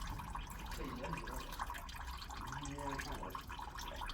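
Water draining from the flooded sump of a Perkins 4236 engine on a narrowboat, a faint, continuous trickle with small drip-like gurgles over a low engine-bay hum.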